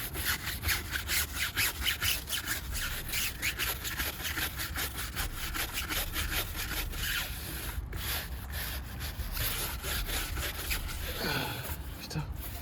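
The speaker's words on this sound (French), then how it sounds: "J'ai une autre brosse qui est plutôt efficace pour le pneu." A stiff brush scrubs a car tyre during a wash in steady, rapid back-and-forth strokes, loud and close, with a brief pause near the end.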